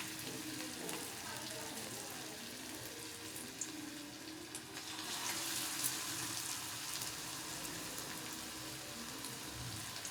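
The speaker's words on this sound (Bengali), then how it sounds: "তেলটা গরম হয়ে গেছে, খুব বেশি গরম করবেন না, অল্প আছে এরকম চ্যাপটা করে এগুলো ভেজে নেবেন" Bottle gourd peel fritters fry in a little hot oil, giving a soft, continuous sizzle with faint watery crackle at a moderate distance and no talking.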